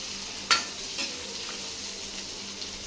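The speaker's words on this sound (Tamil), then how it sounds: "பெரிய வெங்காயம் அதையும் போட்டுக்கலாங்க. போட்டு கிளறி விட்டுக்கலாங்க." Large onions frying in a pan while being stirred, a constant soft sizzle with a couple of faint scrapes from the spoon, nearby and without talk.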